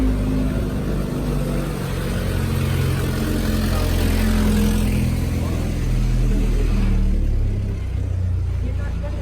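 A car drives past on a town street, its engine rumble rising and fading over low, steady traffic noise, with people talking nearby.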